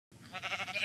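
A single short sheep bleat from the Minecraft video game, a wavering synthetic call lasting under a second, clear and close, with no speech over it.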